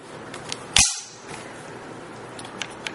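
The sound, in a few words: bolt catch operated on S&W M&P 15-22 rifle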